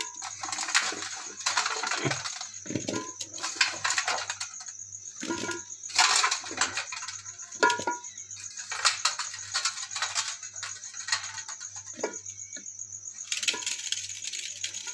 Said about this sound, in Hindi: बर्तन लिया है, उसमें मैं ये सारे सिंगाड़े डाल देता हूँ।